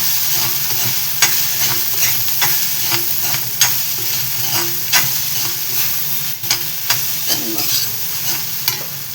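Roasted poha is stirred and tossed in a pan, with a loud, continuous dry sizzle broken by regular scraping strokes of the spatula, roughly one every second, close up and without talk.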